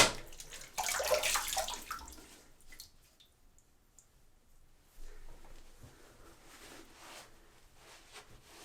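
Tap water splashing as a face is rinsed after a wet shave, a loud burst of running water up close, then quieter dripping and intermittent splashes.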